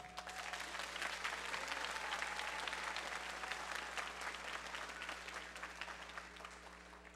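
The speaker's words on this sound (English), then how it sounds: "Graduates, please join me in saluting those special people in your life, your parents, family members, friends, and teachers by a round of applause." A graduation audience at the John Leslie Patton Jr. Academic Center in 2013 applauds steadily and evenly for several seconds, the clapping fairly distant and slightly muffled, with a low hum underneath and no voices.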